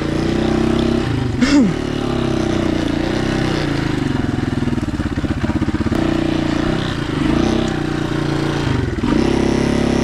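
Honda XLR200 motorcycle ridden on a rough trail, its engine running close and steady with repeated revs and rattling clatter as it works over uneven ground.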